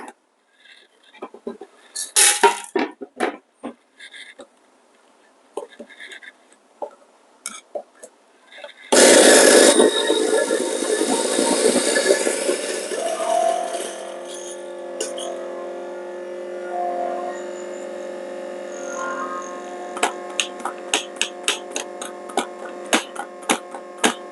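A Chinese EK43S-style coffee grinder grinds a measured 18-gram dose of beans, a loud continuous whirring grind starting abruptly after some faint clicks and handling, then settling into a steady motor drone with light ticking.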